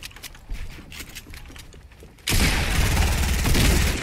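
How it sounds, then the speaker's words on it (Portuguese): Dense Fortnite gunfire erupts midway, a sustained loud burst of rapid shots and bazooka booms following quieter scattered pops. "Não sei de onde veio esse tiro."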